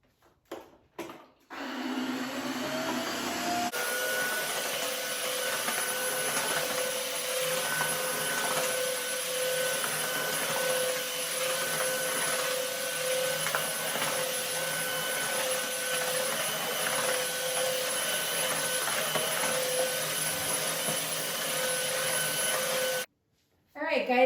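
A Tineco Floor One S3 cordless wet-dry vacuum runs on a bathroom floor in auto mode, switching on after a few clicks into a steady, loud motor whine with scrubbing roller noise, then cutting off at the end.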